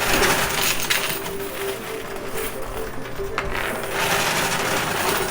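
A high-stakes casino coin pusher shoves a loaded field of poker chips and coins, producing a loud, continuous mechanical grinding and ratcheting with clinks of sliding chips throughout.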